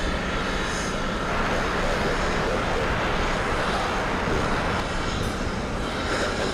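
A JetBlue airliner passes at JFK airport, its jet roar a steady, loud broadband rush that holds level for the whole stretch without fading.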